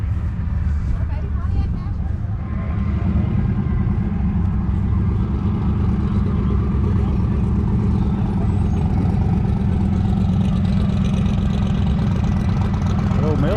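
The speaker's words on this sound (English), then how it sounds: "The old mail truck sounds rowdy." Old mail truck engine idling with a rough, rowdy rumble, close and steady throughout while people talk nearby over it.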